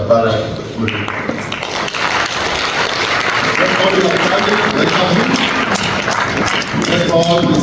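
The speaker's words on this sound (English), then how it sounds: "Let's round of applause, please." An audience applauds to welcome a speaker at a lecture, dense sustained clapping from a crowd that swells and continues for several seconds, with voices audible under it.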